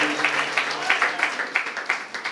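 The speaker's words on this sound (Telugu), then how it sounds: "బిగ్గరగా చప్పట్లు కొడదాం" A church congregation at Sunday worship clapping loudly in an even rhythm of sharp, closely spaced claps that carries on without a break.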